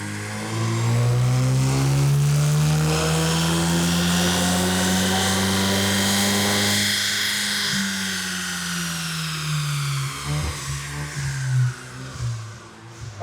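A Ford Mustang EcoBoost on a dyno revs hard through a loud sustained pull, its engine pitch climbing steadily and then easing off, followed by uneven lower rumbles as the run winds down.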